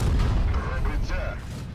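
A tank in a video game, including a twin-turret Type 71, fires a high-explosive shell with a heavy booming blast that rumbles and decays over a couple of seconds.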